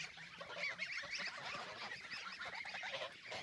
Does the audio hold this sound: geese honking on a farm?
yes